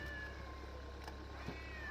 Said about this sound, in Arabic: القطط يا حبيبي